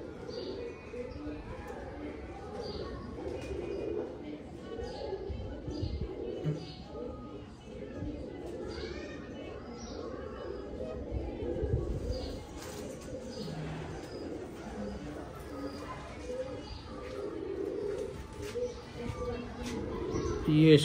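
Soft pigeon coos repeat through a quiet indoor scene, faint and intermittent, with a person talking throughout.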